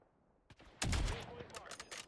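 A Call of Duty: Warzone firefight with incoming sniper fire: a sharp, heavy shot bursts in loud and close, followed by a series of quicker cracks and echoing reports that trail off.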